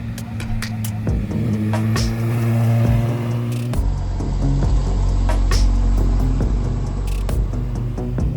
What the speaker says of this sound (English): Man, that bike sounds good.